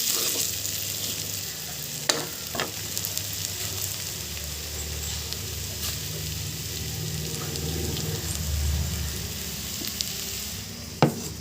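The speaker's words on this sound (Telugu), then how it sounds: "కారం వేసినాక ఒక నిమిషం పాటు అలా మసలివ్వండి ఇవ్వండి" Chili powder sizzles steadily in a pan of hot oil while a spoon stirs it, with a few sharp clicks of utensil against the pan. No one talks over it.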